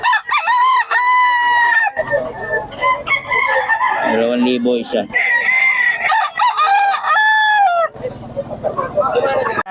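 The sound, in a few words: roosters crowing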